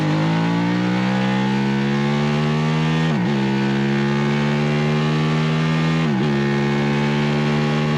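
A racing motorcycle in a novice race of the NEMRR series, October 2022, holds a loud, close, steady high-revving engine note broken by two brief dips where it shifts gear, with no talking.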